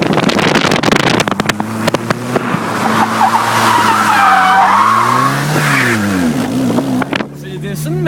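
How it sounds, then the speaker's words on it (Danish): A small blue front-wheel-drive car drifts on a dry road in Roskilde, its tires squealing and skidding for several seconds over a loud revving engine, close to the listener, with voices talking and exclaiming in the car. "det er sådan, man drifter i Roskilde i en forhjulstrukket bil"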